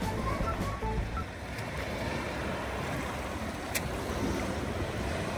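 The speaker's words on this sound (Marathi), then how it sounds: "होडी किती पण लाटेने हलू दे," A small wooden boat rocks on the sea, with a continuous wash of waves and wind rumble around it and occasional soft knocks.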